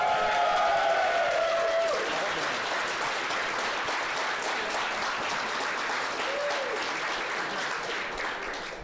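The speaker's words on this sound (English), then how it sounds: "One more round of applause." Sustained applause from a large audience, loud and dense throughout, slowly tapering toward the end.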